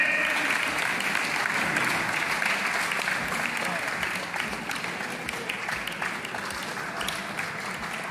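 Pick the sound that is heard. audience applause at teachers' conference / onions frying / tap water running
audience applause at teachers' conference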